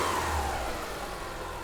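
A car engine is briefly revved while a secondary ignition waveform is tested, giving a short, steady mid-pitched engine roar heard close up with no talk.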